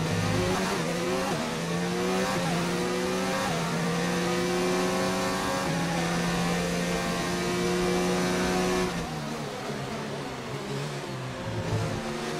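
An F1 car in F1 2019 screams at full throttle around the German Grand Prix circuit, its loud whine stepping up through upshifts, then it drops sharply as the driver lifts and gears down toward the end.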